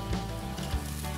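Barbecue sizzling with asparagus on the grill in the game On the Lamb, a brief, steady crackling sizzle at moderate loudness.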